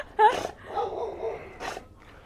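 Dogs at a house bark in a few short bursts, a sharp yelp up front and another a second later, with low whimpering between, fairly close.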